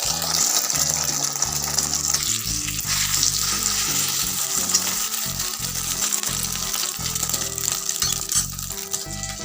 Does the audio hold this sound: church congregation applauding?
no